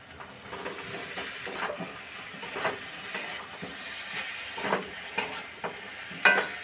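Soybean chunks with fried potatoes and spices being stir-fried in a pan, a steady close sizzle with repeated scraping stirs of a spatula and occasional knocks, no talk.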